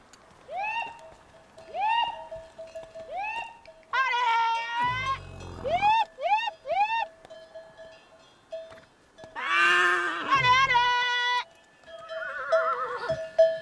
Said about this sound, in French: une passionnée rassemble aujourd'hui son troupeau d'une quarantaine de chevaux